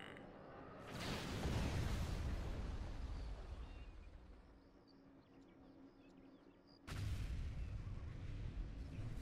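Bombing run explosions in the Star Wars strategy game Thrawn's Revenge: two broad, heavy low rumbling blasts, one rising near the start and a second sudden one near the end, with a rolling crackling tail between them.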